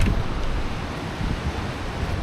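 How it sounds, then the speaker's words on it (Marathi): Savari waterfall in Goa roars with a constant, broad rushing noise, loud and close, steady with slight surges and no voices over it. "तर आता बघा इथं असं धबधब्याचा एवढा मोठा आवाज येतोय ना इथूनच"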